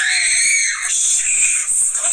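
A person screams in a loud, sustained, high-pitched shriek close by, with a brief break in the middle before it resumes.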